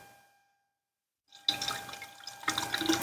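Filtered water pours into a container of eggs, starting abruptly after near silence as a close, bright, splashing stream that continues steadily.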